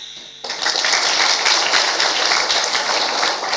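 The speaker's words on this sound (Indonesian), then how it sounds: "Tepuk tangan buat dia." Crowd applause bursts in suddenly after a brief quiet moment and holds as a steady dense patter of many hands clapping, filling a student seminar hall during a motivational talk.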